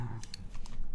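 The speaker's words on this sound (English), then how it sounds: "Topre sounds like this." Keystrokes on a Topre keyboard that is not plugged in, typed at random: a scattering of soft, muffled clicks and thocks, fairly close, with a low hum and faint background noise underneath.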